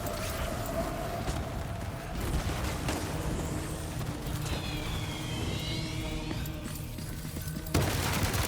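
Scattered gunfire and low booms in Death Stranding 2 sound at a moderate distance amid a noisy game soundscape with engine rumble, bursts coming irregularly throughout.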